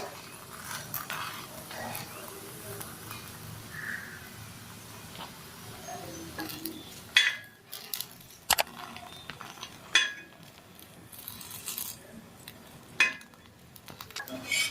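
A bun parotta frying on a hot pan in a Madurai street-food style kitchen, with a steady low sizzle and several sharp metallic clinks and scrapes as it is flipped over.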